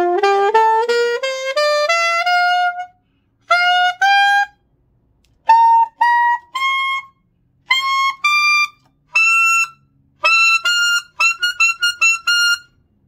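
Alto saxophone playing high altissimo notes, an ascending scale run followed by separated sustained tones and quick short phrases, clear and close with silences between.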